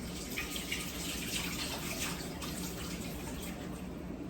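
A steady stream of water runs continuously, a soft broadband pour like a tap filling a bowl, poured into flour for dough, with no talking.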